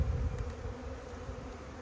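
Honey bees in a nuc box being installed into a hive, a close, steady low buzzing hum filling the short moment without any talk.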